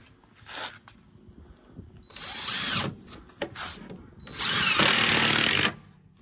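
Cordless drill driving a screw into the end grain of a 2x4 for a cornhole board frame, heard as a few short whirring bursts and then one longer, louder sustained run as the screw seats, all close up.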